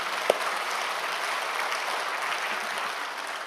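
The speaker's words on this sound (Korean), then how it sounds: "우리 하나님께 영광의 박수를 드리겠습니다." A church congregation claps together during a Sunday service, giving sustained, even applause throughout that fades a little at the end.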